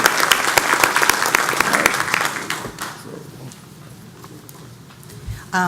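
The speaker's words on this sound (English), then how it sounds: "Let's give the Chief and our fire department a round of applause." Audience applause for a fire chief and fire department at a public meeting, loud dense clapping for about three seconds, then fading to scattered claps and room murmur.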